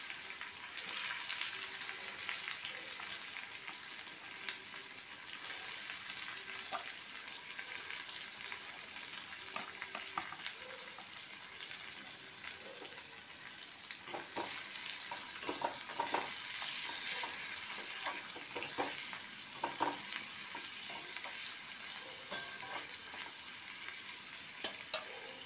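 Two large onions and four green chillies fry in hot oil, giving a continuous close sizzle with intermittent stirring scrapes throughout.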